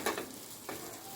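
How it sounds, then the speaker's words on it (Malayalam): Mustard seeds, chillies and curry leaves fry in a pan with a soft sizzle, a couple of brief crackling bursts over a steady quiet hiss. "2 മുളകൊക്കെ ഇട്ടേ ഞാൻ അതിനകത്തേക്ക് കടുകും ലേശം കറിവേപ്പിലയൊക്കെ ഇട്ട്"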